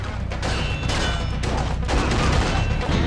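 Gunfire from the video game Red Steel 2 crackles in a dense, continuous fusillade of rapid shots with low booms underneath, loud and sustained without pause.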